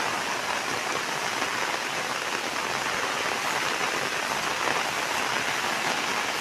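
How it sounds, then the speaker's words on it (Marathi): Steady, dense monsoon rainfall in the Konkan pours down without pause, a loud continuous hiss of drops hitting surfaces all around. "सध्या कोकणात दोन तीन दिवस झाला जोरदार पाऊस पडतोय"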